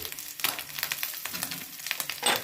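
Sauces and chilli fry in a pan for restaurant-style chilli paneer, a steady close sizzle broken by several short spatula scrapes and stirs in an uneven rhythm.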